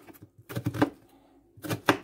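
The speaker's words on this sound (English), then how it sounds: "So I'm gonna chop it up" A knife chopping guava or banana on a cutting board for a smoothie, a quick cluster of sharp taps followed by a pause and another short burst of cuts, close and distinct.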